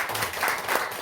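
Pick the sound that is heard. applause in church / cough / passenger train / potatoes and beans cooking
applause in church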